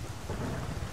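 Heavy rain and a deep roll of thunder fill the Call of Chernobyl game world, a dense, loud, continuous wash with no voices.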